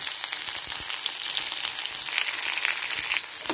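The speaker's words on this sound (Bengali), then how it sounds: "পেঁয়াজ, আমি এখানে একটা পেঁয়াজ কুচি করে নিয়েছি, দিয়ে দিলাম।" Chopped onion hitting hot oil already seasoned with five-spice and a bay leaf, a dense, bright, continuous sizzle close up with no talking.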